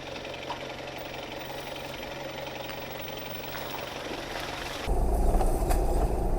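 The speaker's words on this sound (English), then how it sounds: "I've literally just got it low range, first gear, and I'm just letting the truck do the work, letting it idle down the road" A 4WD truck in low range first gear idles as it crawls over a technical off-road track on New Zealand's Central Plateau. Its engine drones in a steady, even knock, then swells into a louder, deeper rumble near the end.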